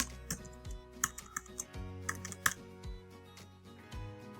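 Someone types a username and password on a computer keyboard, with a close series of quick, uneven key clicks and taps, no voices.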